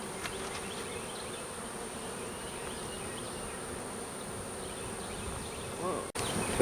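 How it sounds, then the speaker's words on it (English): Honey bees flying back to the hive make a dense, continuous buzz at fairly low level, with a few bees passing closer, and a sudden knock and louder rustle at the very end. "some of these bees that are flying back"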